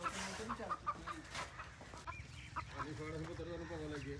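Hen clucking and squawking while being chased and caught on a farm, with agitated repeated clucks close by, a person talking faintly in the background.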